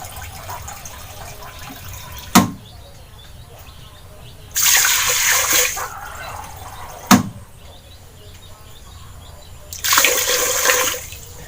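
Eggplant, pork and moringa leaves are rinsed in two separate bursts of running water, each a few seconds long and set off by sharp clicks, with quiet pauses between them.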